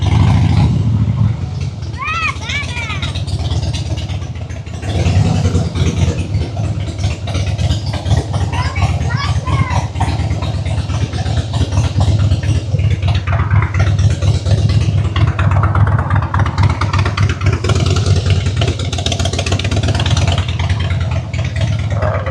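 A heavy motorcycle rumbles steadily at idle with occasional revs, loud and close throughout, while a person talks over the engine noise.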